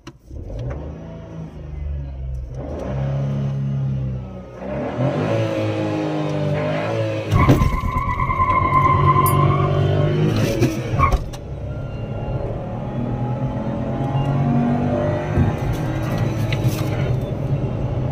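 A Renault Kiger turbo car accelerates hard from 0 to 100 km/h, the engine note rising through several gear changes with brief dips between them, loud and close from inside the cabin.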